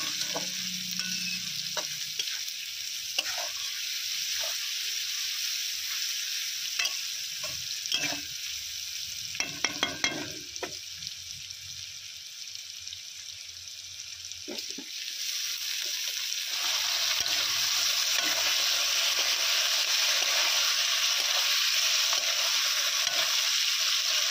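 Chopped tomato sizzles with lightly fried onions in a pan for masala rice and egg curry. Stirring clatters over a steady hiss that grows louder and denser after the tomatoes go in, with no talk.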